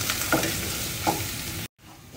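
Onion, ginger, garlic and spices fry in hot oil for dal, giving a steady loud sizzle with two distinct scraping strokes of a stirring spoon, then a sudden cut to quieter hiss.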